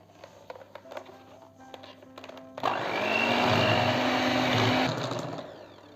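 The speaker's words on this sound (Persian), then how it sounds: "دوباره با همزن در حد 1 دست شدن همش میزنم." An electric hand mixer beats cookie dough with egg, vanilla sugar and vanilla, starting after a few soft clinks and whirring loudly and steadily for about two seconds before winding down.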